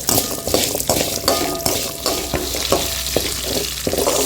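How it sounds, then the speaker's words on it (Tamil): Onion, garlic and red chillies sauté in a pan with a steady, close sizzle, punctuated by regular scraping and stirring strokes from a spatula; no one talks. "வெங்காயமெல்லாம் இந்த அளவுக்கு வதங்கிடுச்சு."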